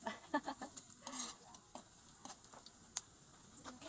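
Pumpkin pieces are stirred and browned in a frying pan, soft spatula scrapes and taps ticking over a faint low sizzle, close and fairly quiet.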